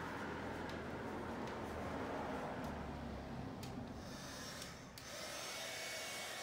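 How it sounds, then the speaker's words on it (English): A heat gun running on its high setting during epoxy work on a TV tray table, a steady close rushing blower hiss that holds even throughout, with one brief dip near the end. "is the heat gun that I use right here."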